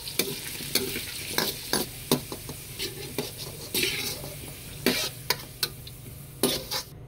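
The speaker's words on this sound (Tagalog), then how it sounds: "isunod na natin yung carrot, saging, tsaka kamote" Carrot, banana and sweet potato sautéed in a pan for sardine pochero, with a steady sizzle under repeated sharp clinks and scrapes of a utensil stirring against the metal, close and fairly loud, with no talk.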